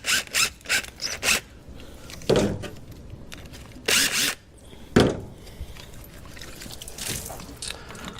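Hose pulled off an engine manifold, a series of close squeaky rubbing and scraping bursts with sharp pops and rustles between pauses, no talking.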